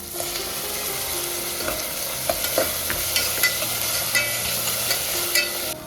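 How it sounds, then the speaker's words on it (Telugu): Green chillies frying in a pan with ginger garlic paste, a steady close sizzle with occasional light stirring clicks, no voices. "పచ్చిమిర్చి వేసేయండి. ఇది జస్ట్ ఒక ఫ్యూ సెకండ్స్ వేగిన తర్వాత టమాటోస్ వేసేసుకుందాము."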